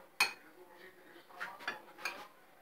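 A utensil clinks and scrapes against a bowl in a few uneven strokes as sifted flour is mixed into batter for a Moroccan tiger cake, close and moderately loud.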